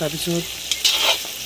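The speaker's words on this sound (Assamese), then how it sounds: "এতিয়া আমাৰ মাংসখিনি বহুতখিনি ভাজা হৈ গ'ল" Meat fried and stirred in a pan, with turmeric and spices just added, sizzling steadily throughout with scraping stir sounds near the end and a brief spoken word at the start.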